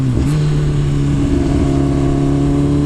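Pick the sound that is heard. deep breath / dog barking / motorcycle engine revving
motorcycle engine revving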